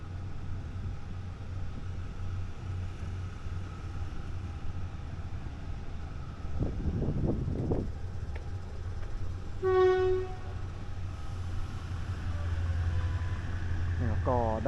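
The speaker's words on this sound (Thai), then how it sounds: "รถไฟออกนะฮะ" Ordinary train 259 pulls out of a station, with a low steady rumble of rolling cars, a brief burst of heavier clanking, and a short horn-like tone partway through. Voices are heard nearby over the rumble.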